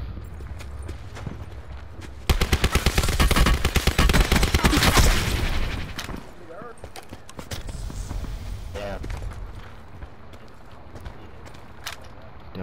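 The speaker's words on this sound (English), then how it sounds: "He's shooting at them." A rapid burst of automatic gunfire in Call of Duty: Black Ops 4 Blackout mode, with loud, dense shots crowded together over a few seconds before fading to quieter game noise and scattered sounds.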